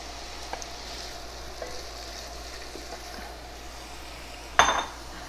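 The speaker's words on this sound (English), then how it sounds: "When our oil is heated up, is hot, we add the onions," Onions fry in hot oil for a tuna recipe, a soft steady sizzle close by, punctuated near the end by a sharp metallic clank of a utensil against the pan.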